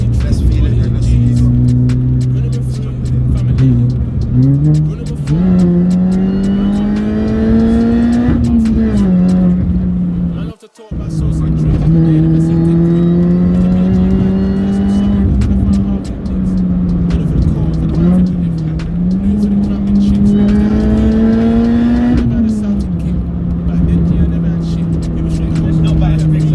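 Supercharged 1.6-litre Mini Cooper S R53 tuned to about 250 bhp pulling hard, its engine note climbing through repeated rising revs with a brief gearchange cut midway, loud and close from inside the car.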